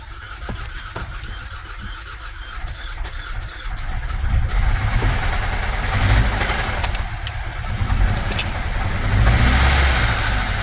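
A 2017 Kia Soul engine runs roughly and unevenly, its low uneven chugging swelling louder partway through, with no one speaking.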